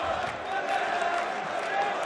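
Darts crowd at the German Darts Grand Prix cheering and singing along, a dense, sustained roar of many voices filling the arena at a steady level throughout.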